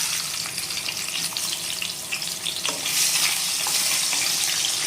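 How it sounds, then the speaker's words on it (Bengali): Potatoes sizzle steadily in hot oil left over from frying fish, a dense continuous crackle that grows a little louder midway, with no talking. "আর এখন বন্ধুরা মাছ ভাজার তেলেই আমি দিয়ে নেব আলুগুলো।"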